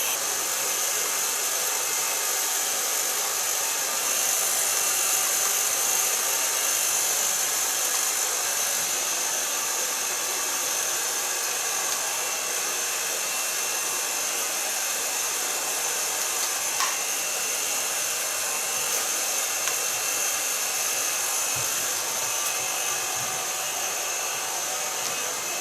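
A hair dryer runs steadily while hair is blow-dried with a paddle brush, giving a constant close, loud airy whir with no talk.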